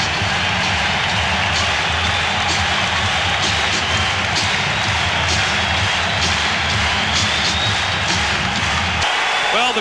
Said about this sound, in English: the crowd back into this game now